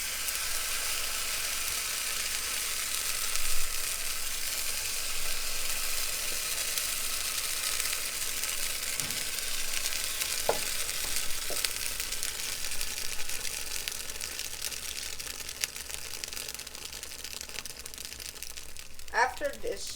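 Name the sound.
pancake batter sizzling as it fries in a pan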